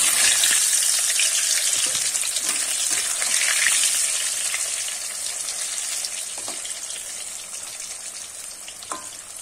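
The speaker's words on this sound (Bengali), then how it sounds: "তেলের মধ্যেই কিন্তু আমি আলুগুলো ভেজে নেব।" Potatoes fry in a pot of hot oil with a steady, close, even sizzle and crackle that eases slightly toward the end, with a few soft utensil taps and no voices.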